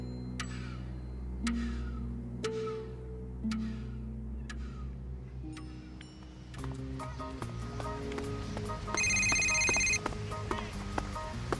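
A telephone rings indoors. Ticking and clicking come first, then a fuller electronic ringing starts, with a brighter, louder burst toward the end. No one speaks.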